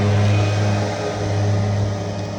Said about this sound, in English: There's a lawnmower, guy on a tractor, mowing the baseball field.